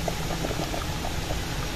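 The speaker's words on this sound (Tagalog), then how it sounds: "kumukulo na" Water bubbles and roils at a steady boil, a dense continuous bubbling close by with no voices.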